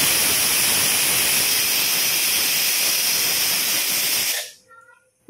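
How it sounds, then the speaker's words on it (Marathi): A pressure cooker of moong dal and oats khichdi on medium gas vents a loud, steady hiss of steam for about four and a half seconds, then cuts off abruptly into near silence. "दोन शिट्ट्या झालेल्या आहे"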